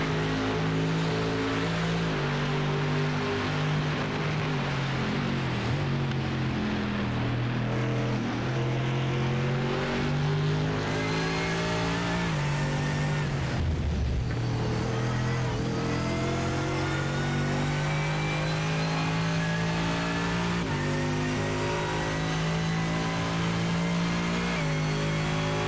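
A GT race car at Donington Park drones steadily as it enters the pit lane, its loud engine note holding and shifting for about 25 seconds, with a brief dip and rise partway through and no voices over it.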